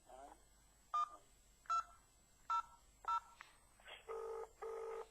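Telephone keypad dialing tones during a call, a series of short separate beeps followed by two longer tones, heard close and clear over faint background.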